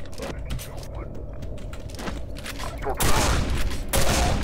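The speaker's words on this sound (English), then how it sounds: "Grenade launcher spam time, however, is never over" A grenade launcher fires in the Quake 4 shooter game amid busy combat noise, with blasts and mechanical clatter building into louder bursts near the end, while a voice talks over the action.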